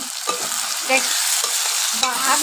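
Eggplant curry frying in a pan, a steady close sizzle with repeated scraping stirs of a spatula running throughout, no voices.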